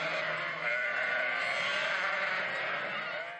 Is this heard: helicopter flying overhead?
no